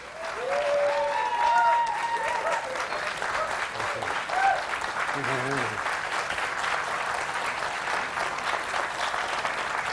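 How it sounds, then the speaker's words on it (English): A crowd applauds loudly and steadily throughout, with a few scattered cheers and whoops rising above the dense clapping. "give him the biggest round of applause and welcome him to the tent"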